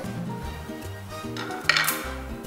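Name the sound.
serving fried food onto a serving plate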